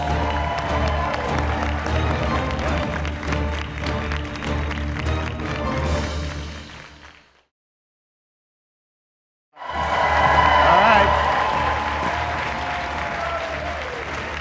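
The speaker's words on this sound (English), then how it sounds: "big round of applause for Jonathan over there." A game show studio audience applauds the third-place contestant with steady clapping and light cheering, fading into several seconds of silence before applause swells back up loudly.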